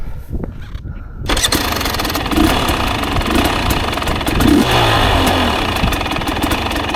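Enduro motorcycle engine on a rough woodland trail, starting with a few quieter engine sounds before a loud, sustained revving burst takes over and holds steady with slight rises in pitch, close to the rider.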